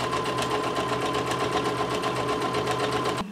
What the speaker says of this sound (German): Und nähe diese beiden Stepplinien.